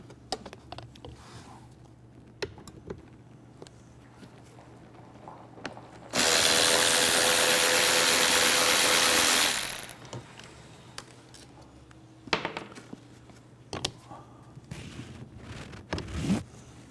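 A power ratchet spinning out bolts from a car seat armrest, one loud continuous whir of about four seconds, with scattered clicks and handling noises before and after.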